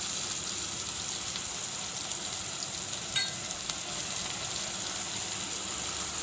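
Chicken curry with a ginger, garlic, coriander, spice and coconut masala paste simmers and sizzles softly in a pan, a faint, even bubbling hiss with an occasional light scrape of stirring and no voices.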